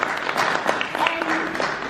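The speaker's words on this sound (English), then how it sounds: "Give them a round of applause." Brief applause from a small group at an inspirational talk, light scattered clapping mixed with voices, moderately loud and over within a couple of seconds.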